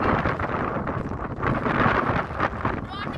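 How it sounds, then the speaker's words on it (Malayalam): Strong desert wind buffets the microphone in a steady, roaring rush that swells and eases over a few seconds, with rustling gusts and no clear voices. "നോക്കുമ്പോൾ ഭയങ്കര കാറ്റ്, ഒരു രക്ഷയില്ലാത്ത കാറ്റാണ്."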